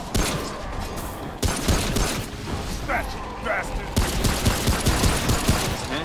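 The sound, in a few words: gunfire in a video game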